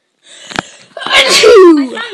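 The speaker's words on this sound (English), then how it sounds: "Achoo!" Someone sneezes loudly and close by while playing Minecraft survival, giving a brief sharp sniff and then a strong voiced burst that trails off into a falling vocal sound.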